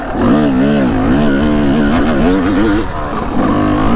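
An off-road vehicle's engine lugs at low rpm on a rugged trail, a steady loud droning growl with wavering pitch that rises and falls over several seconds, heard close and continuous.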